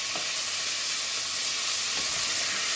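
Carrots and onions cook in a pan for berkoukes with lamb, giving a steady, close, bright sizzle with a few faint stirring knocks and no talk.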